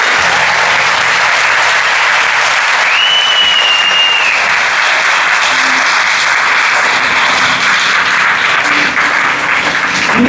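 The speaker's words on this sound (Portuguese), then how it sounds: "Uma salva de palmas para eles" A church audience claps steadily for a group of children, dense sustained applause filling the space throughout, with a brief faint tone sounding over it partway through.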